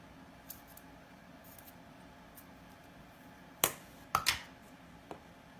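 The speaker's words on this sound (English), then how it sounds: "So then I'm going to cut again." Scissors cut craft material for a shadow box ornament, giving a few quiet, sharp snips close together in an otherwise hushed room.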